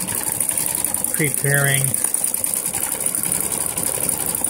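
A Brother XV8500D sewing machine stitching an appliqué runs as a continuous close mechanical whir with a high steady whine, while a brief spoken word cuts in partway through.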